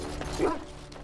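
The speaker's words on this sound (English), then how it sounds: "What are you barking at?" A single short dog bark in the video game Dragon Age: Origins, close and moderately loud, over a low crackling background.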